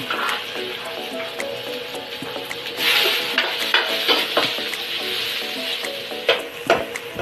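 Chopped onions hit a hot pan for ginataang hipon with kalabasa, sizzling steadily while a utensil stirs and clinks against the metal in irregular bursts up close.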